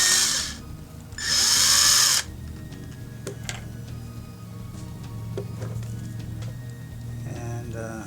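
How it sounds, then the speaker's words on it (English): A power drill whirs in two short loud bursts, then comes clattering, tapping and handling noise at close range. "Just start off with a drill bits a little bit smaller"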